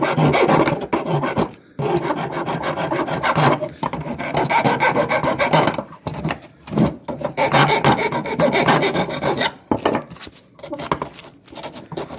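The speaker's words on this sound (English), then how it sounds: "do a little bit of deburring" A hand file rasps across a metal fuel pump fitting on a G-body fuel pump and sender assembly, deburring it in steady back-and-forth strokes, close and loud, broken by brief pauses.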